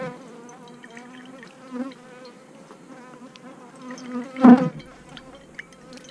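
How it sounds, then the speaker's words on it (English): Honey bees buzzing around a hive during November hive work, a dense droning hum with shifting pitches as individual bees pass close, and a louder swell from one near flyby toward the end. "Bee getting a little testy here."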